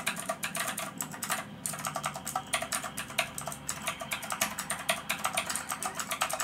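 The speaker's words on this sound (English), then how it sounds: "little background keyboard test with the Elgato Wave" Rapid computer keyboard typing picked up through an Elgato Wave 3 microphone, a continuous stream of close, crisp key clicks with a short pause partway through.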